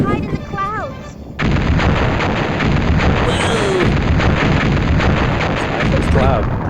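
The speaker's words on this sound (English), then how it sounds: "Pretty good looking explosions, actually." Explosions and cannon fire in the video game Mega Man Legends: a loud, continuous roar of blasts and booming gunfire fills the scene after a brief quieter opening with a voice, and the barrage continues steadily throughout.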